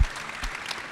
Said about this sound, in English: Can we get one last round of applause for Abigail and